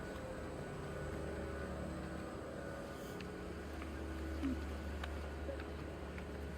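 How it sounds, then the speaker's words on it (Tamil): Steady, loud droning engine and rotor noise fills the whole clip, a constant low rumble with a whooshing wash over it, heard from inside a helicopter flying over Abu Dhabi. "இப்ப ஹெலிகாப்டர்ல போறோம்."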